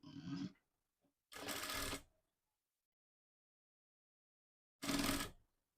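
A sewing machine stitches satin lining for a long frock made from an old saree, in three short separate bursts of whirring with silent pauses between, close and clear.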